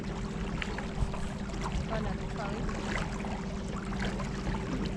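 A small electric trolling-style boat motor pushes a boat along the Colorado River a few miles from Hoover Dam, a steady close whirring hum over splashing water, with someone talking over it.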